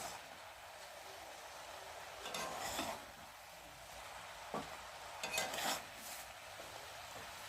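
Coriander powder being stirred into ginger and cumin paste with vegetables in a pan, a faint low sizzle with a few soft scraping stirs and light clinks of a utensil on metal, close but quiet.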